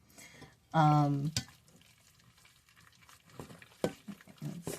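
A spoon stirs cinnamon into thick homemade applesauce, with soft wet scraping and squelching in short bursts at close range. A brief voice-like squeal sounds near the start.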